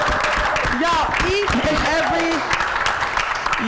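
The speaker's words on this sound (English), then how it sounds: "give him a round of applause" An audience claps in a steady, dense patter that carries through the whole stretch, with a voice talking and calling out over the applause.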